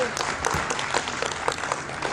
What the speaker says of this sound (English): Ryan, give a round of applause for Ryan.